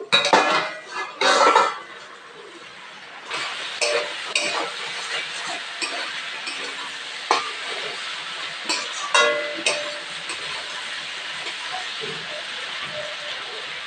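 A metal lid lifted off a pot of potatoes and Malabar spinach fruit cooking on the stove, sharp clanks and rattles of metal up close at the start, then a soft sizzle with scattered utensil clinks.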